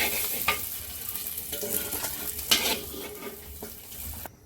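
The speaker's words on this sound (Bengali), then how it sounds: "ঘিয়ে পনির ভাজা করে নিচ্ছি।" Paneer cubes sizzle in hot ghee in a pan, with continuous crackling and a few sharp scrapes and clinks as the pieces are stirred and turned; no voices.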